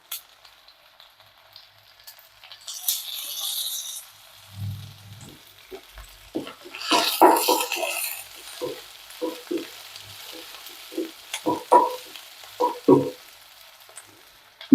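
Green chillies with curry leaves and coriander frying in hot oil while a kurma is cooked, giving bursts of sizzling and crackle with stirring clatter, moderately loud and close, no talking.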